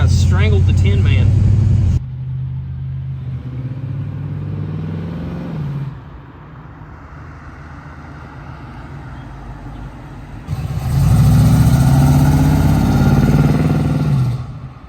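A 1978 Nova engine with a new exhaust runs at a steady low idle with a deep exhaust rumble, and people talk loudly over it at the start and near the end.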